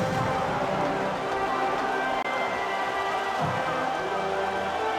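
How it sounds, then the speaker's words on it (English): Steady rain in the NCAA Football 2004 video game, a dense even hiss of falling drops that continues unchanged for the whole stretch, with no voices over it. "we're going to have a little rain out there for today's game"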